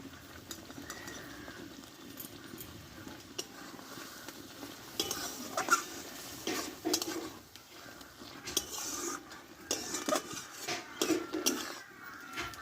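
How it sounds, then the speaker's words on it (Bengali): Bean (sheem) curry finished with a spoonful of ghee being stirred in a pan, soft scraping and clinks of a spoon against metal over a faint sizzle, with intermittent louder stirring bursts toward the end. "কিছুক্ষণ নাড়াচাড়া করে আমি নামিয়ে নেব"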